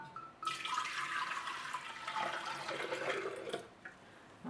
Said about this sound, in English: So I'm going to go ahead and pour my water in.